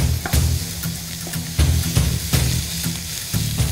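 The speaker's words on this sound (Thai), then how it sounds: "ขั้นแรกค่ะเราจะใส่เนื้อลงไปก่อนนะคะแต่ว่าไม่ต้องใส่น้ำมันเลยค่ะ" Marbled Angus beef stir-fried in a pan with no oil: a steady close sizzle, with scraping stirs breaking in at regular intervals.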